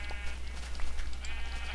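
Sheep bleat in the video game Minecraft, short nasal calls over a steady low background hum, fairly close and moderately loud.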